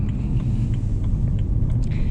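A 2008 BMW E90 328xi drives along rural back roads, a steady low engine and road rumble heard from inside the cabin, constant and moderately loud with no talk.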